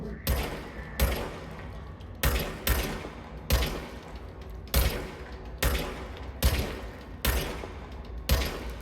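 A gun fires in the video game Control, with roughly a dozen loud, punchy single shots spaced about every second in a steady, evenly paced rhythm.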